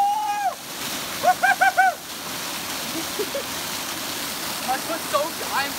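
Rushing waterfall seen from its top, a constant loud roar of splashing water; voices call out and exclaim over it in short bursts near the start and again near the end.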